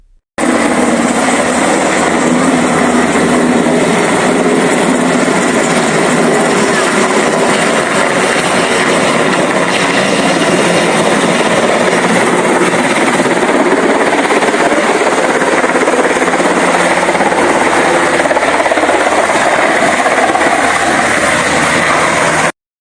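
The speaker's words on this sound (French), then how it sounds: "L'hélicoptère a atterri dans l'une des bases de la mission onusienne car l'aéroport est toujours hors service." A helicopter lands at a UN peacekeeping mission base in Goma, its rotor and engine producing a loud, continuous, close roar that holds steady for over twenty seconds with no talking.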